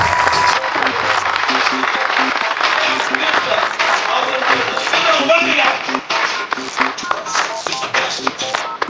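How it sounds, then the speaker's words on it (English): Audience applause at a stage event, dense clapping from a crowd filling the whole stretch with steady loud energy, music or voices faintly mixed underneath, easing slightly near the end. "I want you to applaud them as loud as possible"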